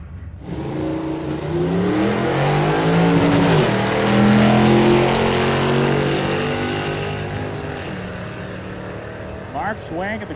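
Drag racing cars, a supercharged Coyote-powered Mustang and a Corvette, launch and accelerate hard, engine tones climbing and swelling loud then fading as they pull away, with an announcer talking over the roar.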